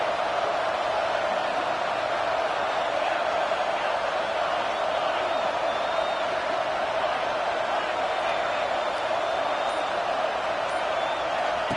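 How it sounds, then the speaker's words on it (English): Steady roar of a stadium crowd cheering early at a college football game in Colorado, a constant broad wash of noise holding for the whole stretch with no breaks. "This crowd bringing the energy and noise early"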